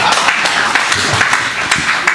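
An audience at a Holi comedy show claps and applauds, a steady patter of many hands lasting the whole moment at moderate loudness, with no one speaking over it.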